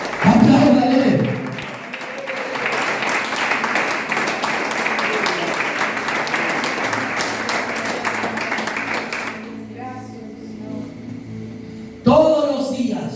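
A church congregation breaks into sustained applause for several seconds, with a preacher's voice heard before and just after the clapping.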